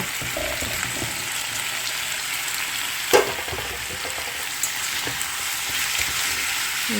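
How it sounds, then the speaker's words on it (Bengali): Chili paneer being stirred with chopped spring onions in a hot pan, a continuous sizzle with occasional scrapes and one sharp clack from a utensil against the pan, fairly loud with no voices. "ভালো করে মিশিয়ে নেব 2-1 মিনিট।"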